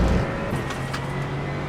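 LMP3 prototype race cars in a sports car endurance racing video game at Road Atlanta, a steady engine drone with a faint whine throughout, moderately loud and heard alone.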